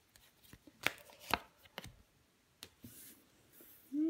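Tarot cards are laid down on a table, a few soft distinct slaps and flicks spaced over a few seconds, close and fairly quiet, with no voice over them.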